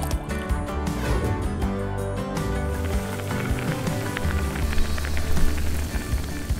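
Water poured into a pot holding gummy bears, made with watermelon-flavored gelatin; a steady, continuous splashing fill runs the whole time, fairly loud and close, with no talking over it.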